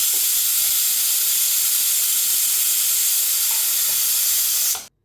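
A pressure cooker holding beef lets off steam in one continuous loud hiss that holds steady for about five seconds before cutting off abruptly.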